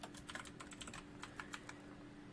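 Steady typing on a computer keyboard at a designer's desk, a quick run of close, crisp key clicks over a faint background hum, with no talk.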